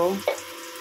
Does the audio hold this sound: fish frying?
yes